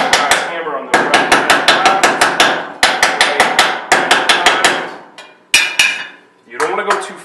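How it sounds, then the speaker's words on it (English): A brass hammer gives quick, sharp metallic taps to the Dawson feed lips of a 2011 pistol magazine. Close, loud strikes fall in fast bursts of several, with short pauses between the groups. "We just give them a little tap with a brass hammer on the right."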